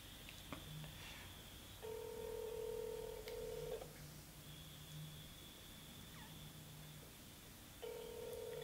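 Outgoing phone call ringback tone repeating in steady two-second bursts with pauses between, while a call to a mother connects; quiet room background with no talking during the rings.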